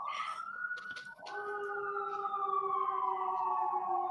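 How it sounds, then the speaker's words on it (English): A police siren wails outside, its rising and falling tone carrying from a distance and echoing off nearby buildings, with a brief break before it resumes and slowly glides lower, steady and clear with no talk. "the same police siren sound is bouncing."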